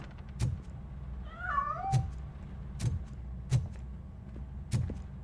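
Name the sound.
cat meowing and escaping from a piano, from the video game RoboCop: Rogue City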